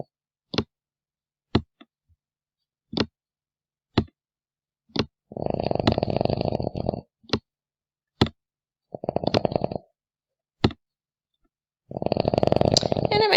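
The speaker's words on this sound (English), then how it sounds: "Oh, my dog is snoring." A sleeping dog snores in slow, rough bursts, each lasting about a second or two with quiet gaps between, while sharp, isolated taps click throughout near a pencil-drawing workspace.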